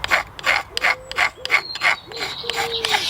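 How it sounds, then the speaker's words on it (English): A magnesium rod is scraped with a blade to shave filings onto a wooden feather stick for fire starting. About seven quick, close rasping strokes come in an uneven rhythm with short gaps between them. "scrape off some of the filings into the feathers"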